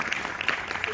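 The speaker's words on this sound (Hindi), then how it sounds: "जोरदार तालियां" Applause at a live yoga and dance event in India, a short burst of close, fairly quiet clapping with no talk over it.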